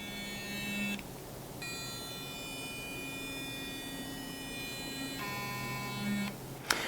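A buzzing SURI electric toothbrush motor drones continuously, louder than a Foreo, with brief pauses and shifts in pitch as it changes modes, ending with a small clack.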